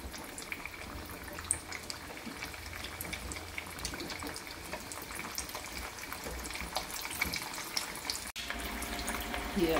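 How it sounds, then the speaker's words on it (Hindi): Taro root (arbi) pieces frying in hot oil, a steady, soft sizzle and bubbling that runs the whole time, with a brief clink near the end. "अब इसे हम दूसरी डाल रहे हैं फ्राई करने के लिए।"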